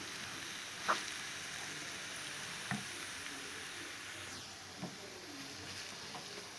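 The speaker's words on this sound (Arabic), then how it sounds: "بعد ما سخنات لي شويه الزيت غندير فيها اول حاجه غندير هاد البصله، نخليها تشحر شويه" Onion frying in hot oil on a gas burner gives a steady, faint sizzle throughout, broken by a few soft clicks and taps.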